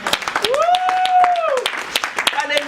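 A church congregation claps in praise of God during a Christian service, sharp repeated hand-claps sounding under a loud singing or chanting voice.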